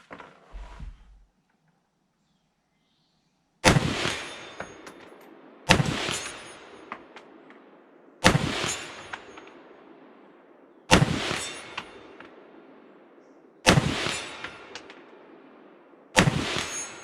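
Six loud, sharp rifle reports from an old Norinco SKS fired at a 100-yard target, evenly spaced a few seconds apart, each one close and followed by a short decaying echo.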